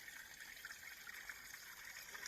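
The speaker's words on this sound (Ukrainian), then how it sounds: "Зразу чуєте шум води." Water runs steadily through roadside ditches as a continuous soft rushing and trickling hiss, even and unbroken, heard alone with no voices.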